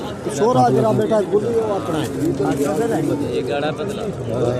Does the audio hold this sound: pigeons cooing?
yes